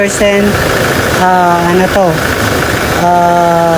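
A 2024 Toyota Innova XE engine idles steadily nearby with a low, even hum and a slight wavering in pitch, holding constant throughout.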